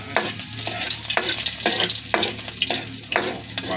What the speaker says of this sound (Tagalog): Gisa natin yung bawang guys.